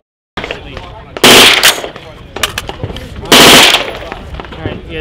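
Rapid gunfire at an industry day shooting range, two loud bursts of quick shots, about ten rounds in all, with sharp cracks and echo between them and a voice talking alongside.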